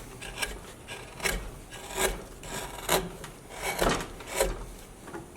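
A blade scrapes across a rough wooden edge in a steady series of rasping strokes, about two per second, close and fairly quiet with no talk.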